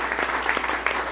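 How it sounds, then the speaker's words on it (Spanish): A church congregation applauds in a brief, steady wash of clapping, moderately loud and continuous with no speech over it. "Dale un aplauso al Señor"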